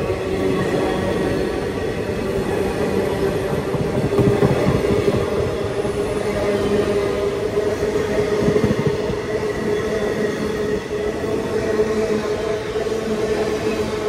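A passenger train on the Kadapa to Bangalore route rumbles along the tracks, a steady loud roar with rhythmic wheel clatter and faint squeal, heard from inside and continuous throughout.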